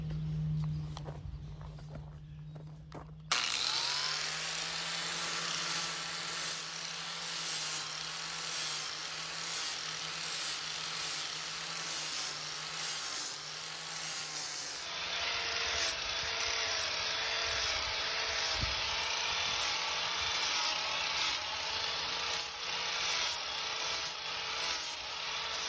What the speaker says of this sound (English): what I'm going to do now is use a flap wheel on my grinder. This is an 80 grit flap wheel